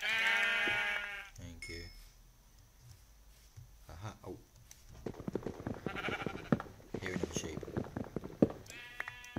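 Sheep bleat in the Minecraft video game, several short wavering calls at moderate volume, while someone talks over the game sounds.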